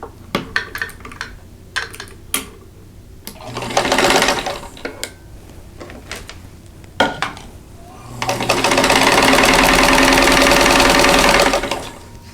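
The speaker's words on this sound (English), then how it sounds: "So we'll sew those, and I'm just going to chain piece them all together." A sewing machine chain-pieces quilt block patches, with short bursts of stitching and clicks and taps between them, then two longer steady runs of fast machine hum.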